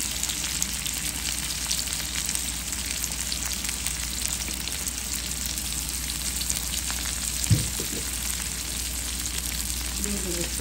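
Green papaya, onion, green chillies and garlic fry in hot oil with turmeric and salt in a pan, giving a steady, moderate sizzle throughout and a brief utensil clink near the end.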